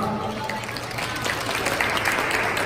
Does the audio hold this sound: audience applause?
yes